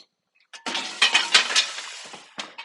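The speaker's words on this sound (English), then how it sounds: "Put some ice cubes in the bottom." Ice cubes tossed onto the bottom of an oven heated to 425 degrees for refreshing bread give a burst of clattering, sizzling crackle that starts abruptly, continues for about two seconds, and then tails off, loud and close.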